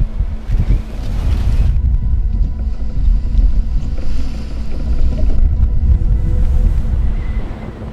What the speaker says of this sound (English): the wind had picked up, touching gale force